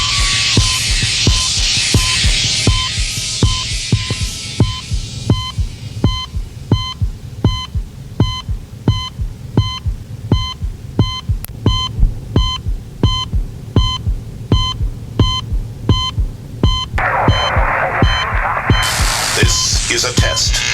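An FM radio test signal from 103.5 FM in New York: a loud, steady, rapid train of regular clicks or pulses over a hum, with brief tonal bursts near the end.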